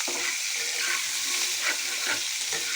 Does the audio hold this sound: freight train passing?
no